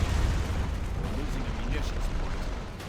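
A grenade bursts with a heavy, low boom in the World War II strategy game Company of Heroes, rumbling and fading over a couple of seconds beneath distant battle noise.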